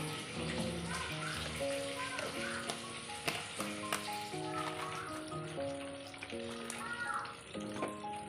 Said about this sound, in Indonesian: Jadi di sini tuh ikannya aku goreng sebentar aja ya teman-teman